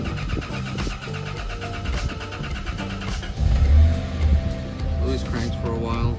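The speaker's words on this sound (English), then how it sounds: "Alright, now I'm gonna start the car." A Lexus LX450 engine cranks for a while and then catches, settling into a steady low idle rumble that swells mid-clip, close to the microphone, with light rain-like noise in the background.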